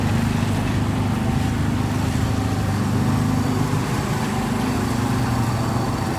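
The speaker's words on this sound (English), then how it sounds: "you have the souvlaki truck. The hum of the engine roll in there, the power." A souvlaki food truck on a Queens city street gives off a constant low engine hum, a loud steady droning rumble with no talking.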